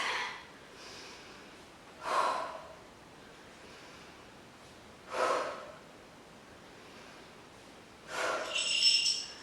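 Forceful breaths exhaled during an arm workout: three separate loud, close puffs of air spaced a few seconds apart over quiet background, the last one longer and drawn out.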